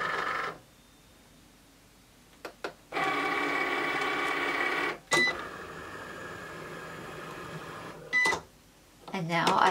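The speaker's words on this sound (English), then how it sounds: "And now I'll load my machine." A Cricut cutting machine loads a card mat in bursts of steady mechanical whirring, with short clicks and a few beeps between the runs, fairly close and without talk.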